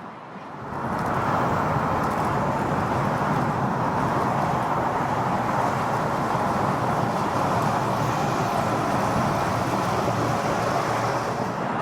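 A 2002 Ford Thunderbird Roadster cruises down the highway, heard as a constant, loud roar of wind and road noise with a low engine hum beneath, steady and unbroken, no one speaking.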